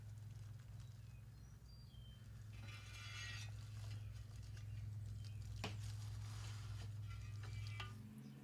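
Hand ratchet loosening the top bolt on the rear differential cover of a 2011 Ford F150, quiet clicking and mechanical rattles over a steady low hum, close but faint.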